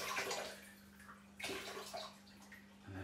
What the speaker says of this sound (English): So just going to give this a little rinse with the sterilising fluid